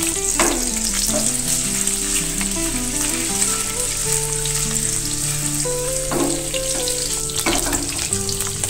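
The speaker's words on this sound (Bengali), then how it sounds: "এবার আমি এই পনিরগুলো ভেজে নেব ভালো করে।" Paneer pieces fry in hot oil with a loud, dense, unbroken sizzle and occasional crackles, accompanied throughout by background music.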